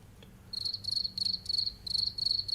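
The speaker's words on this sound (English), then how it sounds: "Here, crickets." Crickets chirp outdoors on a chilly 44-degree morning, sending quiet, evenly spaced bursts of high trilling pulses in a steady rhythm, faint and somewhat distant.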